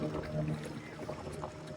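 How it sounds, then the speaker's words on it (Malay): Sea waves slosh and splash steadily against a small boat off Sarawak, a continuous watery wash under a constant motor-like hum, with no clear voices. "Ombak."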